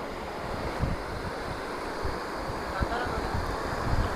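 Ocean waves wash over a wave-swept silvery beach below coastal sea cliffs, a continuous surf hiss with soft low thumps of breaking water and some wind over the microphone.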